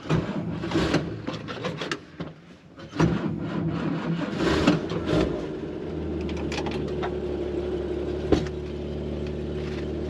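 A 1949 Willys Jeepster convertible's straight-six flathead cranks with clattering mechanical noise, then catches and settles into a steady low idle that hums on close by.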